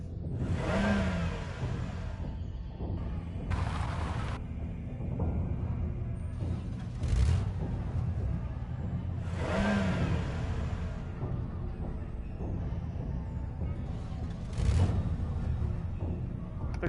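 A car engine in the video game Surviving the Aftermath hums steadily throughout, rising in repeated revving swells with whooshing passes, moderately loud and with no talk over it.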